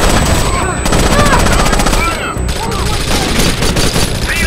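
Sustained light machine gun fire in Rainbow Six Vegas 2, a loud, continuous rattling stream of shots with other combat noise, heavy and close throughout.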